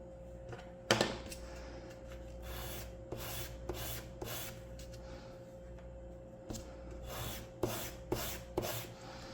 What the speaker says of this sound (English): So now I can come in and start my sanding